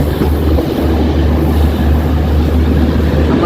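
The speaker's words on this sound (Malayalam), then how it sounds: "ഫൈനലി നമ്മൾ തൃശ്ശൂർ റെയിൽവേ സ്റ്റേഷനിലേക്ക് എത്തിക്കൊണ്ടിരിക്കുകയാണ്" A Garib Rath Express with ICF coaches runs into Thrissur station, giving a steady, loud low rumble of wheels and carriages with constant broadband noise and no talk.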